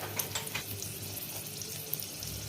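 Bay leaf and whole dried red chilies sizzling in hot ghee in a pan, a soft steady frying hiss with a few small pops, fairly quiet and without talk.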